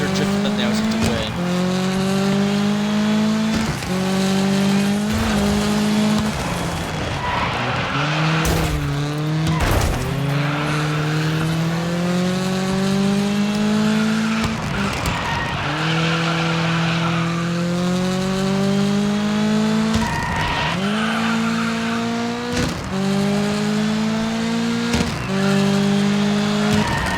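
Rally cars drifting in DIRT 5, a loud, continuous engine drone that climbs and drops with gear changes, broken by repeated tire squeals and skids, with a commentator talking over it.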